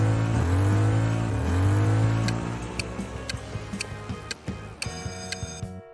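A Ford Mustang SVT Cobra V8 revs hard twice, loud and close, the pitch climbing and dropping with each blip before the engine settles into a lumpy idle mixed with sharp ticking clicks.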